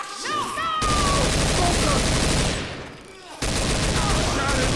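Dense, continuous gunfire from the horror video game Escape From Castle Yhy, loud bursts pouring out almost without pause, briefly easing near the end before resuming, with faint game sounds and French-speaking players' voices mixed in.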